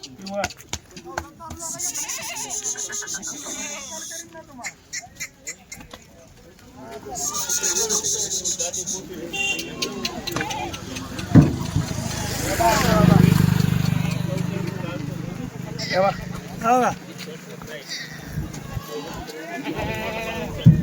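Kathiawadi goats bleat at a livestock dealer's yard, several calls rising over steady talk from people nearby, with farm clatter and shifting voices throughout.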